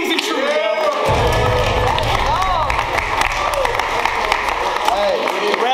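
Rap battle crowd erupts in loud cheering, whistles and steady applause, a dense wall of sound sustained throughout, with excited shouts rising above the clapping.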